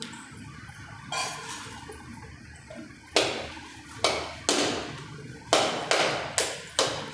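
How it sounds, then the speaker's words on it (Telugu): A coconut is struck and broken as an offering during a Friday puja, giving about seven sharp, loud cracking blows in an uneven rhythm, heard close with no talk. "ఒక టెంకాయ కొట్టు."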